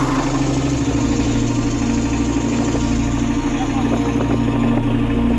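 A country boat engine drones steadily on the Kushiyara river, a loud, even low-pitched idle-like rumble with constant mechanical buzz and no pauses.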